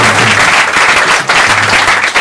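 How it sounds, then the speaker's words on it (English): An audience applauds children after a devotional drama performance, loud dense clapping that swells and dips slightly across the short stretch. "Give them another big round of applause"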